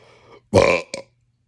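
A single loud, close burp, short and guttural, with a tiny second hiccup right after, set against near silence.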